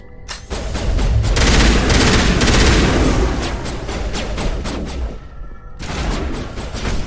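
Gunfire in the video game Mass Effect: Legendary Edition, a loud, dense fusillade of rapid overlapping shots and booms that runs continuously for several seconds, briefly drops away, then resumes.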